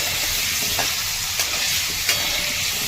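Small potatoes sautéing in oil for dhaba-style dum aloo, giving a loud, continuous close sizzle with a few soft stirring scrapes and no talking.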